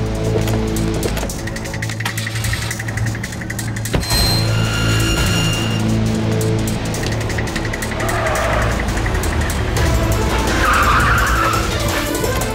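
A car pulls away with a burst of tire squeal and rising engine noise, continuing loud and close over a busy background with no talk.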